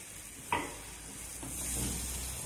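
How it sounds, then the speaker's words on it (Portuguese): A spoon stirs a chocolate syrup of condensed milk, cocoa drink powder and milk in a pan, one sharp scrape followed by softer swirling strokes over a low hiss. "Agora vamos ficar misturando isso aqui até formar a nossa calda."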